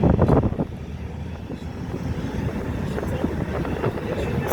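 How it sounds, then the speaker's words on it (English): A Boeing 737-700 rolls onto the runway at Las Vegas airport before takeoff, heard as a distant, broad jet engine rumble mixed with wind buffeting on the microphone, steady and moderately loud throughout. "Yeah, it is gonna take off. It's entering the runway right now."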